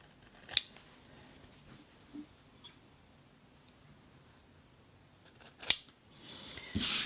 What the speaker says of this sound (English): just cut straight across at the point